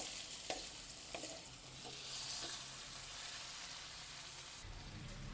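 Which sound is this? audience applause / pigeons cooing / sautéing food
sautéing food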